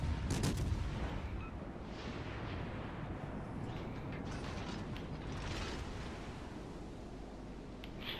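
Distant artillery booms from warships firing armour-piercing shells in World of Warships Legends, a few muffled thuds near the start over a constant low rumble of engine and sea noise, with no voices.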